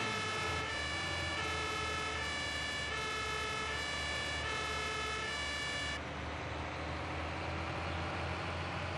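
An emergency vehicle siren in the German rescue simulation game Notruf 112 wails steadily and loudly for about six seconds, then cuts off, leaving a dull engine and road rumble.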